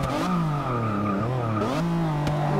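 A McLaren F1 GT V12 engine in the racing game Forza Motorsport 6 revs continuously with a smooth rising and falling pitch through gear changes and cornering, loud and close, with no talk.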